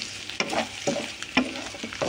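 Coriander leaves and broad flat beans (goruchikkudu) fry in a pan, a steady crackling sizzle with sharp stirring scrapes at uneven intervals, close and fairly loud with no talking.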